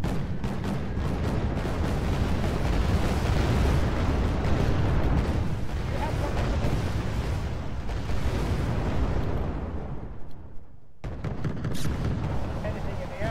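A heavy bomb dropped by a bomber detonates in Wargame Red Dragon, a long, loud rumbling roar of explosions and booms that swells and fades over many seconds, with voices talking over it.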